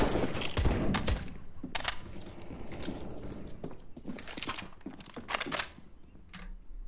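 Rapid gunfire in Counter-Strike: Global Offensive, a string of close, crisp shots in bursts, loudest at the start and fading into lighter scattered pops with faint clicking.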